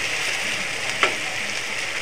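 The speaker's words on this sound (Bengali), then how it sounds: "আলু দিয়ে মশলাটাকে ভালো করে কষিয়ে নিয়েছি।" Spice masala with potatoes sautéing in a pan for dhokar dalna, a steady close sizzle and fry with one brief scrape or stir near the middle.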